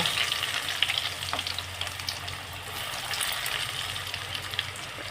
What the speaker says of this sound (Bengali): এবারে সবগুলো ভেজে নেব